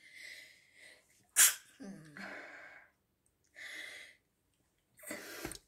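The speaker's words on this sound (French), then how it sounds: "excusez-moi, je vais éternuer." A single loud, sharp sneeze bursts out, preceded and followed by quiet breathy sighs and short vocal sounds.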